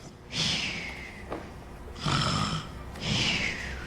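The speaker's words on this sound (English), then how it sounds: "My, that grandmother has a mighty snore." A wolf lying in a grandmother's bed snores deeply, three long rasping breaths at a steady pace, loud and close with no talk over them.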